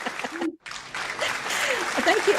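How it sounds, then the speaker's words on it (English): Studio audience applause, a dense, fairly loud patter of clapping that starts after a brief gap, with people talking over it. "we need to tell our audience they only have to clap one time."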